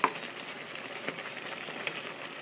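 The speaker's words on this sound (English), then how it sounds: "go back and check on the ground turkey, and stir it up some more and kind of mash it" Ground turkey frying in a pan, a soft steady sizzle with a few light clicks and scrapes as it is stirred and mashed, quiet and close, with no talking.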